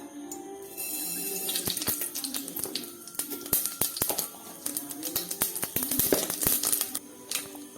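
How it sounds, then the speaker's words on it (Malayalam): Rapid, irregular crackling and sharp pops of mustard seeds bursting in hot oil, growing busier over several seconds, close and fairly loud. "ചൂടായ എണ്ണയിലേക്ക് നമുക്ക് കടുകിടാം"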